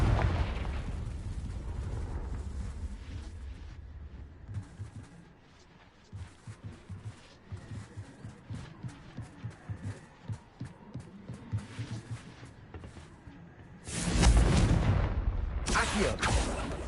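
Confringo spell blasts in Hogwarts Legacy go off as a string of sharp bursts and booms. A loud, heavy explosion swells near the end.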